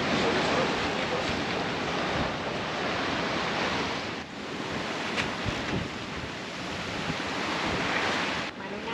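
Strong 25–30 knot wind roars across the microphone off Capo Malfatano, Sardinia, with waves washing against a sailboat under a reduced jib, a dense, constant rush with brief gust dips.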